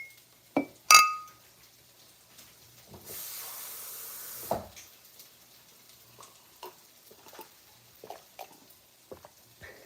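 A glass sets off a sharp, ringing clink and a second knock while someone fetches water in a kitchen, followed by a steady rushing hiss lasting over a second, then scattered soft taps and clatter.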